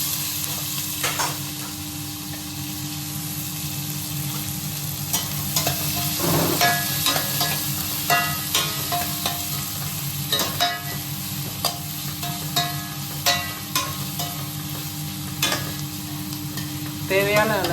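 Onions frying and sizzling in a pan in a home kitchen, with repeated spoon or spatula scrapes and stirring knocks over a steady crackling sizzle, close up and continuous, without speech.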